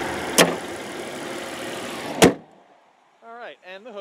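A 2001 VW Passat wagon's hood slams shut with a single loud, sharp thud over a steady engine idle. A second, smaller clunk comes just before it, and then a voice speaks briefly after a short quiet.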